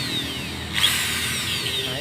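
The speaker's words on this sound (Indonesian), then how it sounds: "Kami menggunakan mata bor 2 mili" A 2 mm drill bit bores into a gas stove part, giving a steady whining drone with a brief louder bite partway through; a voice speaks faintly underneath.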